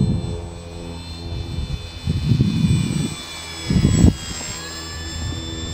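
A Durafly F4U Corsair RC model airplane flies presentation passes over a grass field, its motor giving a steady high whine that varies in pitch, while gusts of wind rumble loudly at intervals.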